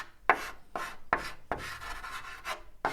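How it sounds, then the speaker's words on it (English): Chalk scratching across a classroom chalkboard in a rhythmic series of short rasping strokes, each starting with a sharp squeaky attack, close and clear with nothing else heard. "If you guessed chalk writing on a chalkboard, well done."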